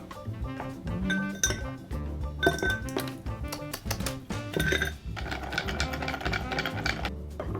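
Ice clinks in a cocktail glass while a milk punch is mixed, a busy stream of close, bright glassy rattles and clinks with short pauses, lasting several seconds, no talk.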